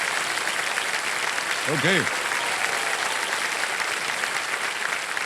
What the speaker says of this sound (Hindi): तालियां बजते रहे सोनी जी के लिए।